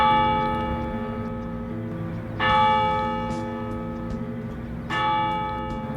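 An old church bell, large enough for a big sound yet small enough for its tower, rings in the bell tower of a vineyard resort, with two clear strikes about 2.5 seconds apart, each leaving a long, sustained, humming decay.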